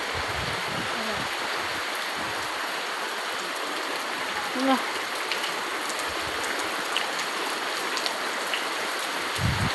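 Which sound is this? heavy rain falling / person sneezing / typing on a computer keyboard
heavy rain falling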